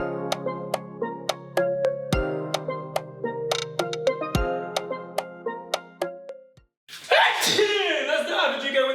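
A single loud, close sneeze bursts out near the end in a home kitchen where moussaka is being cooked, following a run of sharp clicks and ringing metallic taps.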